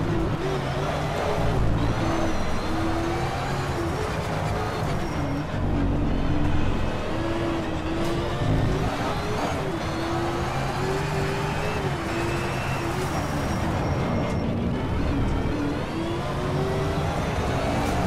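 Rear-wheel-drive car driven in the racing game Shift 2 Unleashed, with a steady engine drone and shifting revs that rise and fall continuously throughout, close and constant with no talk.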